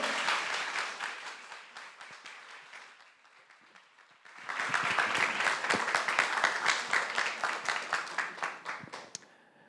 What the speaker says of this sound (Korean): 우리 이종태 목사님 모실 때 박수로 환영하겠습니다